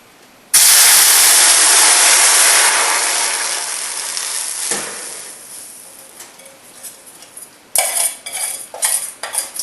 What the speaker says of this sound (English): we're going to pour this directly into the pan while it is in the oven